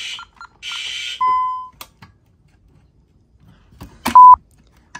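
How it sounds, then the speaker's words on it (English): Fire alarm system test sounding in short electronic bursts: a buzzy broadband pulse, a longer harsh burst, then steady single-pitch beeps, the last one louder and closer, separated by near silence. "Fire alarm activation in 3, 2, 1."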